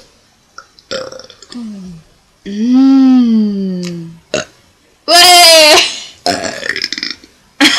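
Several loud, drawn-out burps, some long and warbling, close up, with a brief spoken exclamation between them.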